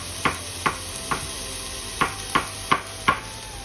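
A knife slicing through pre-washed mushrooms on a cutting board: seven crisp, evenly spaced chops in a steady rhythm, close and clear with no talk.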